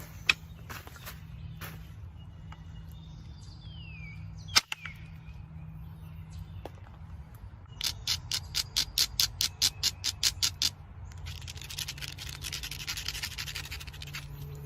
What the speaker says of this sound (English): what I'm going to do is grind the edge here, flip it over, and use the indirect